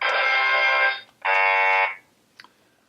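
A classroom noisemaker gives a wrong-answer buzzer effect: two harsh, loud electronic buzz blasts, the first longer, then a brief faint blip, with no talking.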